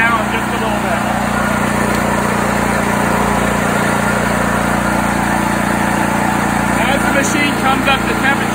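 A 7000-watt generator engine runs steadily while warming up, a loud, unbroken mechanical drone with a constant hum and no pauses.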